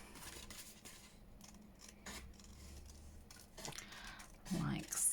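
Scissors cutting around a paper piece for a junk journal pocket, soft intermittent snips and paper rustles up close, with a louder handling rustle at the end.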